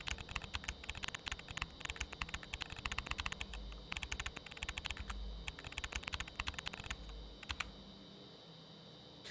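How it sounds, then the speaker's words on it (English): Rapid keyboard typing in a video game, a dense run of crisp close clicks and key taps for about eight seconds, then it stops abruptly, leaving quiet background. "The keyboard typing sound is so satisfying to me."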